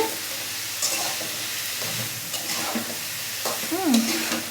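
Sweet pumpkin frying in a pan while being stirred, a steady soft sizzle with scraping stir strokes throughout, fairly close and even in level.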